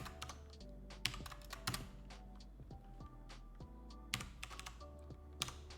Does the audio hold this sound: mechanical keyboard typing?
yes